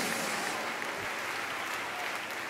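Fairly faint, steady crowd applause at a Spanish-language Christian tribute honouring a long-running string-and-vocal worship duo, a continuous wash of many hands with no distinct voices.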